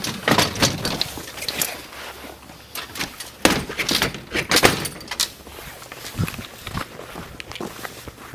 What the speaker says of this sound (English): if I can open this door.